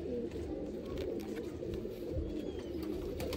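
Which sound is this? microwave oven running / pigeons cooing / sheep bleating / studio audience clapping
pigeons cooing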